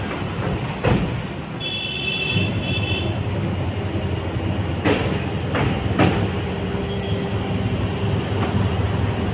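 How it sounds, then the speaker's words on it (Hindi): Train running at speed across an old iron bridge over the Yamuna river, a steady loud rumble of wheels and carriages with a few sharp metallic clanks and a brief high squeal. "चलिए अभी हमारी ट्रेन ने स्पीड पकड़ ली है।"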